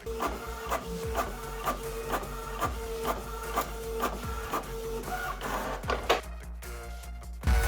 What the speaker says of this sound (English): Finally, the printer works and I finally print my practice sheets.